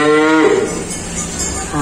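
A three-day-old male Belgian Blue calf with white on its head and legs moos loudly and close by, one drawn-out bellow followed by a second call starting near the end.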